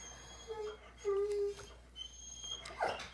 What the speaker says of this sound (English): what the heck is wrong with that dog? Why is she crying like that?